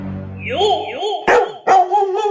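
Dog barks in sharp bursts, with two loud, close yelps standing out over a whining, voice-like tone in a domestic family setting.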